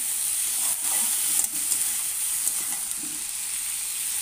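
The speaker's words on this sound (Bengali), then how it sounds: "এবার দেখে রেখে এটাকে ভালোভাবে কষিয়ে নেব।" Potato and eggplant sautéing in a pan over a lowered flame, giving a steady hissing sizzle with a few soft stirring scrapes, close and without voices.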